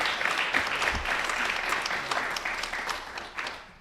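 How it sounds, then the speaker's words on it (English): An audience at a carbon removal challenge showcase claps steadily in a dense burst of applause that holds for several seconds, then begins to thin out at the end. "let's just give a huge round of applause for everybody who's presented so far"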